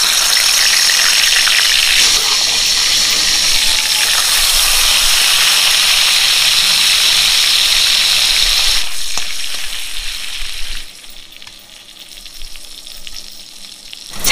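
Food fries lightly in a pan with a loud, steady sizzle and occasional stirring scrapes, fading and breaking up toward the end before a brief final burst.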